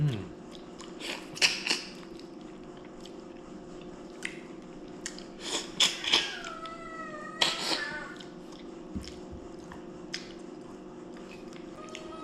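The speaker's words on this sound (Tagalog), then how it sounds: "Tapos po yung tinik bigay po natin sa pusa." A cat chewing and crunching on leftover fish bones, with soft wet chewing and a couple of short meows over a low steady background hum.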